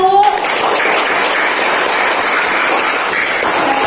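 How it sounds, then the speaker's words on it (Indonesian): A classroom of students applauds group 1 after their presentation, a dense, even wash of clapping close by that runs steadily throughout with a brief voice at the start. "Tepuk tangan buat kelompok 1"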